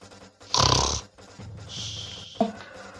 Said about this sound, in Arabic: صوت شخيره واصل لحمص عطول